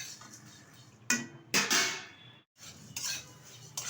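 Flattened rice (chira) dry-roasted in a kadai with no oil, stirred so it scrapes and rattles against the pan in close, uneven bursts with brief pauses between strokes.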